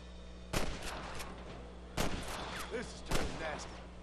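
Three sharp gunshots ring out at irregular intervals in the Western video game Red Dead Redemption, set against a steady low hum of game ambience.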